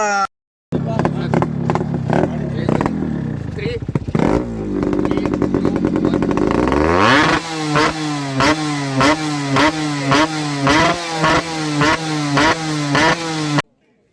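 A Yamaha RX two-stroke motorcycle engine revs up sharply, then settles into a loud, rhythmic idle with repeated throttle blips, close to the listener.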